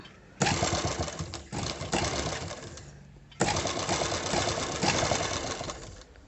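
A sewing machine stitching a beaded embroidery blouse runs in loud close bursts, starting, slowing and stopping several times with a rapid mechanical whir and brief quiet pauses between runs.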